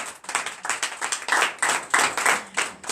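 A few people at a night deliverance service in church clap in sharp, distinct bursts, close and rhythmic, with separate claps standing out rather than merging into a continuous wash.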